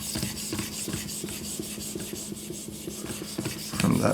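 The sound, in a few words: Edge Pro Apex kit refining knife edge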